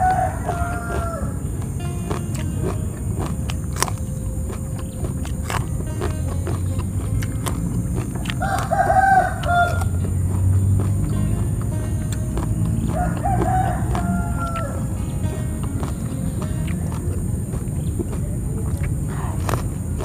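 Several roosters crow in drawn-out calls at intervals on an early morning, some near and some farther off, while hens cluck softly amid steady background rustle.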